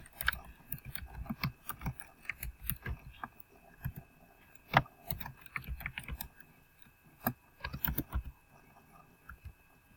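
Someone types on a computer keyboard while adding text to a photo in Photoshop, quick irregular clacks in short bursts with brief pauses, close and fairly quiet.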